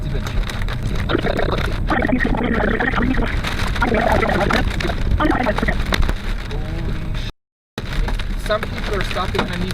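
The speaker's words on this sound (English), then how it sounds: "It's hail hitting the car." Dense, irregular pattering of hail hitting a Camaro's body and windshield during a thunderstorm, steady throughout with a brief dropout, under ongoing background noise.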